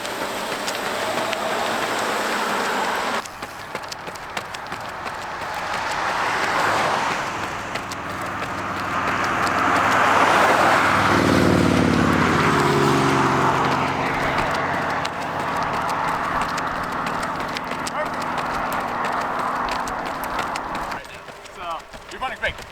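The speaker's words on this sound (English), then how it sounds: "Car back, car back." A car approaches from behind runners on a road, its broad rushing noise swelling to a peak midway and then fading, over steady footfalls and voices.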